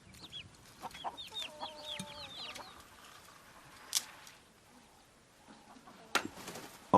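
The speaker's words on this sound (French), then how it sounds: "En plus de poules et de chèvres" Chickens cluck and call on a remote farm in the Kalahari, a scattering of short clucks and drawn-out notes near the start, then quieter stretches broken by a few sharp knocks.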